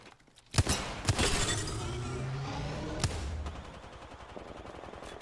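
Video game gunfire in a squad battle royale match, a few sharp shots and short bursts at moderate distance followed by a lingering rumbling tail, fairly quiet overall.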